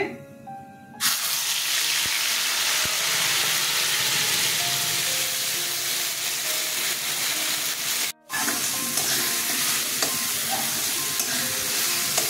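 Spices sizzle loudly in hot oil after a tempering of bay leaf, dried chilli and cumin, a continuous crackling fry with stirring scrapes and a brief pause midway.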